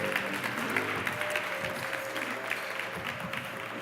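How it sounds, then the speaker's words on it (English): Steady applause from a conference audience, dense clapping at an even level for the whole stretch. "give a big round of applause to the Starship team"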